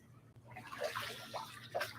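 Water sloshes and splashes in a bathtub as someone moves in it, with soft irregular swirls and a few brighter splashes close by, no talking.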